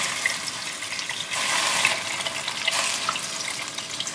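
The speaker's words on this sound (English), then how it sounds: "2 to 3 cups of water" Two to three cups of water pouring into a pressure cooker pot of mutton for a Pakistani stew, heard as a continuous close rushing splash that swells briefly midway.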